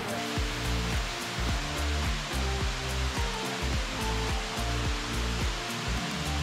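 Steady broadband rush of the waterfall at Grotto Cave in the Santa Monica Mountains, a constant loud roar of falling water with low rumbling, continuous for the whole stretch and heard alone without voices.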